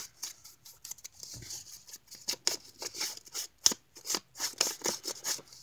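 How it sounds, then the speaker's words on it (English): Music paper being ripped and its edges distressed for a craft piece, a run of close, crisp tearing and scratchy rubbing bursts in an irregular rhythm. "So I'm just gonna rip that and distress the edges."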